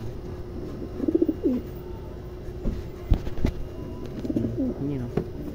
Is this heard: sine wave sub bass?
no